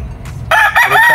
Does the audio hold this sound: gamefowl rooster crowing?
yes